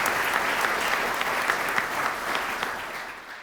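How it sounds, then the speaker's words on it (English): An audience at an awards evening in a theatre gives sustained applause for the finalists and lifetime achievement winners, a dense wash of clapping that fades out at the end. "Let's get a round of applause for all of our finalists, as well as our Lifetime Achievement Award winners this evening."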